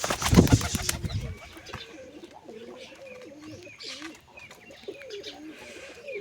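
A brief loud burst of wing flaps, then several pigeons coo repeatedly in low, throaty warbles nearby, with faint background chatter.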